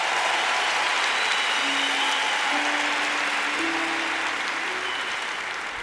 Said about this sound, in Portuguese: Um forte aplauso para o meu pai